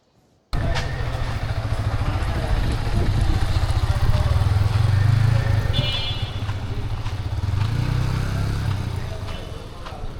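A motorcycle engine runs steadily and loudly nearby for several seconds, revving slightly in the middle, with faint voices barely audible under it.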